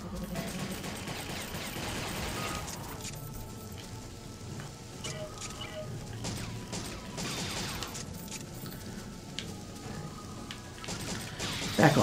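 Rapid machine gun fire rattles in the Dino Stalker video game, a dense, continuous crackle of shots running steadily for about twelve seconds with scattered impacts, ending in a louder burst.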